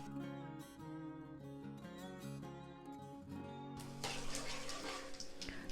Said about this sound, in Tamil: இப்போ கடுகு பொரியட்டும்